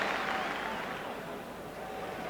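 Crowd at a Rangers v Dunfermline football match applauding a Rangers midfield player: a broad, sustained wash of clapping from a large stadium crowd, steady at moderate level for a couple of seconds.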